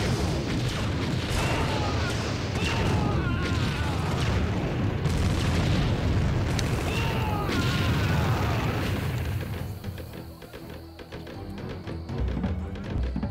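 Heavy guns firing in Empire Earth, a futuristic Russian campaign set in 2035, produce a dense, continuous rumble of booming blasts and explosions that fades slightly toward the end.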